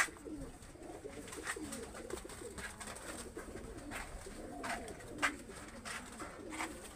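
Dabwale pigeons coo in low, rolling murmurs, several birds overlapping in soft repeated calls, with occasional light clicks and flutters nearby.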